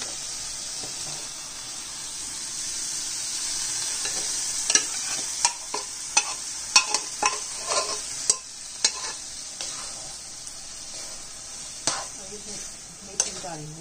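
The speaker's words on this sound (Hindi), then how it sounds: "मेरा मसाला बन चुका है अब सीधे डालते हैं मटर और आलू" Peas and potatoes stirred into spice paste in a hot pan, with steady sizzling and a series of scraping, clattering spoon strokes in the middle stretch.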